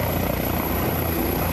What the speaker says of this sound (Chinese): 直升机豆豆的降落